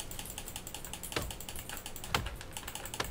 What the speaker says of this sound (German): Was klicken Sie denn so aggressiv auf Ihre Maus rum?